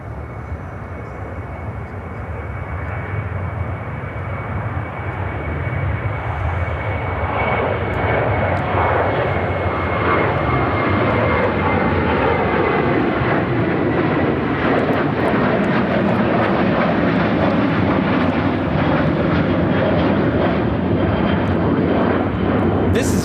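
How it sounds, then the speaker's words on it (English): A United Airlines Boeing 737-700 departs Chicago O'Hare, engine noise swelling from a moderate whine into a loud, sustained roar, with faint talk now and then. "This is United Airlines 2661 taking off to LaGuardia on the 737-700."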